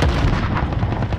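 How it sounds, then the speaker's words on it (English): A grenade blast in the video game Call of Duty Warzone, a dense booming detonation that fills the short moment at steady, loud level without any talk. "Throw a grenade!"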